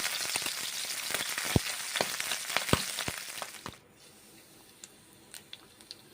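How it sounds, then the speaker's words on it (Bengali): Magur catfish frying in hot oil, a dense crackling sizzle with sharp spatter pops for the first few seconds, then dropping to a quieter, sparser sizzle with occasional pops. "তেল দিয়ে মাগুর মাছগুলোকে ভেজে নিচ্ছি।"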